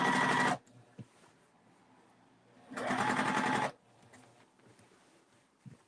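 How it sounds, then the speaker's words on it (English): A sewing machine stitches a facing around a dress armhole in two bursts, one short and one about a second long, close and clear, with quiet pauses between. "I'm going to stitch my facing around the arm"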